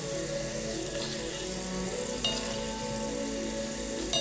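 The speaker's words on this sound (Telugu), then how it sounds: "కింద దించిన తర్వాత కూడా ఎలా మరుగుతుందో చూడండి ఫ్రెండ్స్." Ginger and garlic tempering sizzles in hot oil in a pan taken off the stove for a mango pickle, with a constant crackling fry that stays steady and close, broken by a couple of small clinks.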